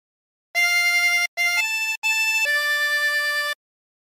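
A harmonica plays a short phrase of O Canada in sustained held notes with brief breaths between them, clear and close with no voices.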